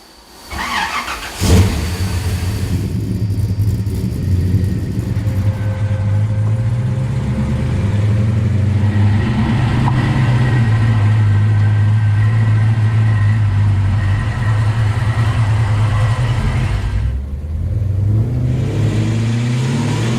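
A 1955-57 Chevy engine heard while driving, a steady close mid-pitched drone that swells after a brief start and holds loud and even, dipping briefly near the end.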